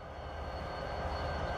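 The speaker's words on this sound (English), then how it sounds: "This SP train from Houston to Fort Worth," A Southern Pacific freight train, running from Houston, rolls through Fort Worth in 1992, giving a steady, fairly faint rumble of rail noise with no voices.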